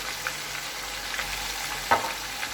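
Marinated chicken with coriander powder, coconut powder and spices is stirred in a cooking pot, a soft continuous sizzle with a few light scrapes of the spoon, close and steady.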